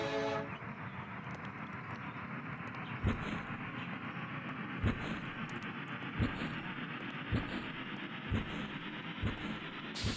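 A departing train in a video game, heard as a steady rumble of rolling railcars with repeated sharp clanks at regular intervals, fairly loud and continuous with no voices.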